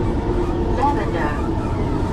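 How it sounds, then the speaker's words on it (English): An underground metro train runs with a steady low rumble and rolling wheel noise, a continuous loud drone inside the carriage with faint brief tones above it. "This one mainly operates from underground, so it just drops you next to the hotel."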